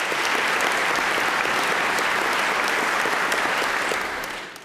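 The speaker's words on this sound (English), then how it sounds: "I got to give you a round of applause for that, Stephen." Sustained audience applause at a legislative session gathering, a dense, even wash of many hands clapping that holds steady before tapering off near the end, with no voices over it.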